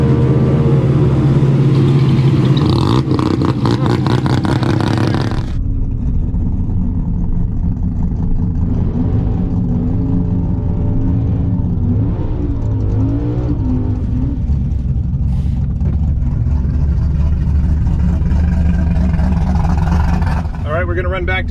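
A Mazda RX-7 rotary drag car roars down the drag strip, loud and close at first, then fading into a sustained distant engine drone mixed with crowd and track noise.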